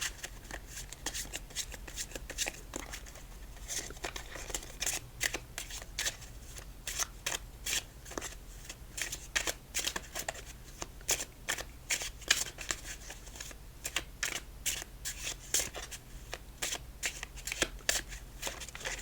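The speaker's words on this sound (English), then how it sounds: "So let's shuffle this one up and keep our night going." Playing cards shuffled continuously, a rapid fluttering riffle repeating in quick bursts throughout, close and fairly loud with no talking.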